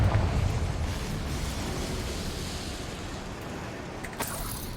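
A Confringo blast spell cast in Hogwarts Legacy, a loud rumbling burst right at the start that trails off into a long roaring decay, with a brief crackle near the end.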